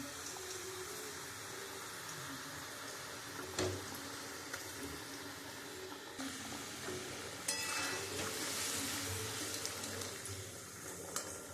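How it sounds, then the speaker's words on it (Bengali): Fish curry gravy with ripe chillies and fish bubbles and sizzles in a pan, a steady simmering hiss with scattered pops and clinks of cooking that swells louder near the end, with no talking. "ঝোলটা ফুটে গেছে"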